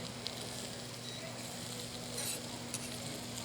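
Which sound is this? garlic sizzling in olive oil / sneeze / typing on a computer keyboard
garlic sizzling in olive oil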